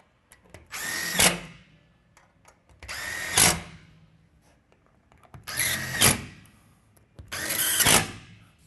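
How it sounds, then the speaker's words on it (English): Four bursts of an impact driver hammering screws in while mounting a TV wall bracket, each lasting about a second with quiet pauses between, loud and close. "I prefer to use an impact driver, which is a little loud"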